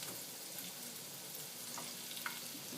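Onions fry in a pan for a baked potato dish, giving a faint, steady sizzle with a light stirring tick or two, quiet and unaccompanied by talk.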